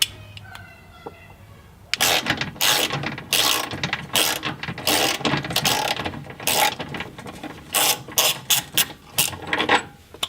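A ratchet wrench works a 17 mm bolt out of a car's rear motor mount, close and loud, clicking in quick bursts of strokes with short pauses between, after a brief quiet start.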